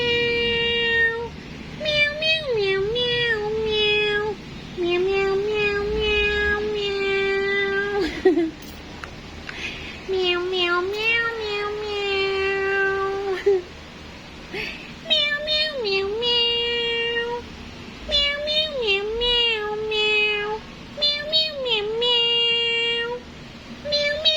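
Cats meow again and again in long, drawn-out, wavering cries, loud and close, coming in clusters with short pauses between them.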